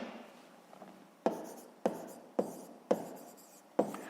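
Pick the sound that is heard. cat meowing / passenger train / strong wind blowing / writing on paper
writing on paper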